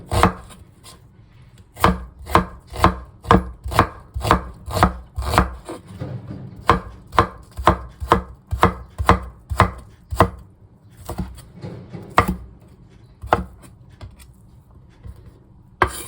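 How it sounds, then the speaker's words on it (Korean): Kitchen knife finely chopping and mincing vegetables on a cutting board for cucumber kimchi, a steady run of close, crisp knocks in quick bursts with short pauses, no voices. "그다음에 이렇게 잘게 썰어주시고요. 조금 다져서"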